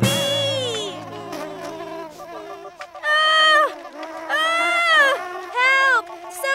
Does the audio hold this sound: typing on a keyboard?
no